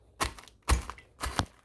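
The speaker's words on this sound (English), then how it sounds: "Just place them in a bag and just start crunching them." Gluten-free crackers in a bag being crushed with a water bottle beside a stove, three sharp crunching strikes at an even rhythm, close and clear, with no talk.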